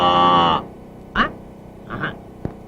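A single long, droning moo, loud and near, a voice imitating a buffalo in a comedy film scene, followed by a few brief softer noises.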